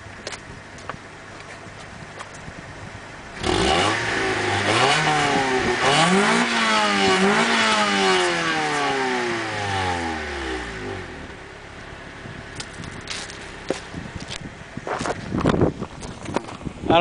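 A 1989 Honda Prelude Si 4WS engine, cold, with a Neuspeed N2 header, Magnaflow high-flow cat and stock cat-back exhaust, revs up sharply outdoors in wind, climbing and falling through several rising sweeps before settling back to a quiet idle.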